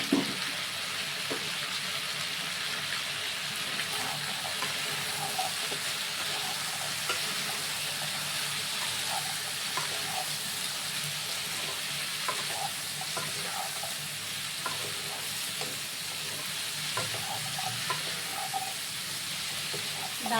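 Turmeric and Kashmiri chili fry in a pan with potatoes and salt, giving a steady, even sizzle. A spoon scrapes and stirs now and then, with faint background noise throughout.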